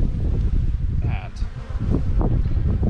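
Honeybees at a hive produce a loud, dense, continuous buzz close by, with a few brief rustles and knocks from working the boxes mixed in and a little wind across the microphone.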